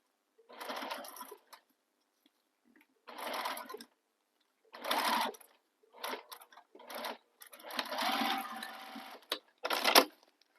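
Sewing machine stitching the lining of a Lady Dior-inspired handbag, running in about seven short bursts of rapid whirring stitches separated by silent pauses, fairly quiet and close.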